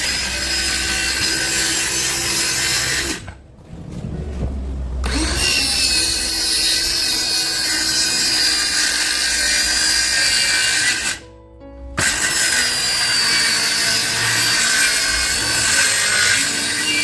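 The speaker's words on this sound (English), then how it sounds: "we checked to make sure that the plywood was cut the right size" A power saw rips through plywood for a campervan slide-out table, a loud continuous rasping cut with two short pauses where the blade stops before it resumes cutting.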